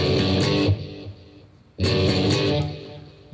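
Electric guitar through an overdrive effect playing a rock song, two loud distorted strummed bursts separated by a brief ringing decay.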